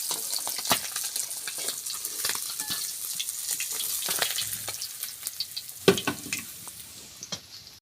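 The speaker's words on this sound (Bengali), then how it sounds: "সুন্দর করে লাল লাল করে মাছগুলো ভেজে নেব।" Small fish fry in plenty of hot oil in a pan, giving a dense, continuous hiss and crackle. Now and then a utensil scrapes or knocks as the pieces are turned. It is close and fairly loud, with no talking.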